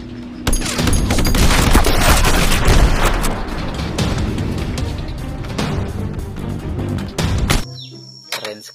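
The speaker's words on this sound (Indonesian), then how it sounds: "di sini ada tembak-tembakan" Dense, continuous video game gunfire with booming blasts and rapid bursts, loud and sustained for several seconds before cutting off abruptly.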